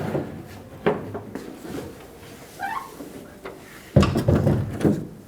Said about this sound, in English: you're going to want to slide it towards the passenger side